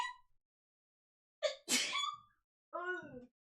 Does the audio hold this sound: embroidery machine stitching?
no